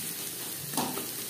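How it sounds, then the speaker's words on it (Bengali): Chopped onions hitting hot oil in a wok that was just used for frying fish, giving a continuous close hiss and sizzle with a brief louder flare partway through, no talking. "এখানে আমি 3টে পেঁয়াজ কুচি করে অ্যাড করলাম।"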